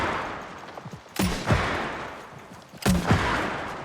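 Two loud gunshot blasts in the video game New World, each a sharp crack with a short ringing tail, about a second and a half apart over a low ambient bed.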